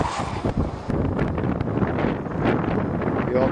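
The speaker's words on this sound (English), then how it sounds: "the wind makes it feel a lot worse" Strong wind buffets the microphone outdoors on a cold, sunny March day at minus four, a loud, rough, gusting roar that continues throughout.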